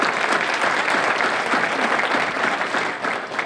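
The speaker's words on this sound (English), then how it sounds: "just a big round of applause tonight for Mayor Di Maria and his vision" Sustained applause from a crowd at a civic event in Everett honoring the mayor, dense and even clapping that holds steady and eases slightly near the end, with no speech over it.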